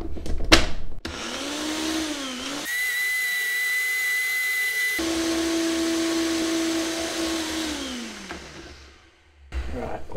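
Ninja blender whirring as it blends a mix with extra virgin olive oil, a loud steady motor whine that rises and shifts in pitch over several seconds before winding down at the end.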